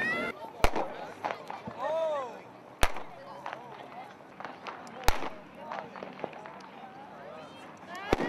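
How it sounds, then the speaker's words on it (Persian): Firecrackers burst at a Chaharshanbe Suri street celebration in Tehran, several sharp, loud bangs spaced a few seconds apart over a noisy crowd with shouting and whistling voices. "با رفیقا اومدیم اینجا آتیش روشن کنیم، ترقه بزنیم"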